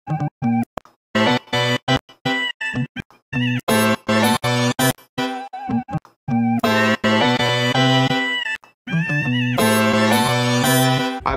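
A music sample pitched up an octave in FL Studio for a chipmunk-style effect, with high, sped-up, squeaky vocal-like tones in choppy stuttering bursts and then longer sustained phrases, loud and upfront.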